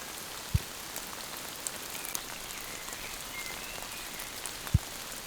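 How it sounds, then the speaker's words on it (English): Rain patters steadily on a bushcraft shelter roof during a cold night in the woods, a soft continuous hiss with a couple of sharper drip hits, fairly faint and with no talking. "It is raining quite heavily and it is leaking from only a few places"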